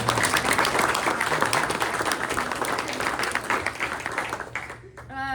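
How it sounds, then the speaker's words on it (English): Sustained applause and clapping from a crowd at a press luncheon, fairly loud and steady, fading slightly near the end. "we can clap it in for everyone"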